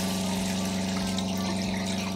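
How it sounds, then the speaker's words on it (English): Water pump in an RV or van conversion hums steadily as water runs from the kitchen sink tap, a loud, continuous close-up drone with flowing water and no voices. "I try it in my sink, kitchen sink."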